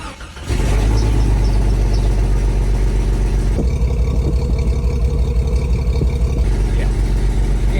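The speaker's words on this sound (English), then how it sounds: "it's acting like it's running on 4 cylinders" A car engine runs rough and uneven as if misfiring on some cylinders, starting abruptly and droning loudly and close with a lumpy, pulsing note for several seconds.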